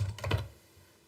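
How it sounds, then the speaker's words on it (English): Quick burst of computer keyboard typing, a few close, soft clacks over about half a second in a quiet room, then near silence. "you can hear my keyboard"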